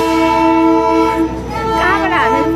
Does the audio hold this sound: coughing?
no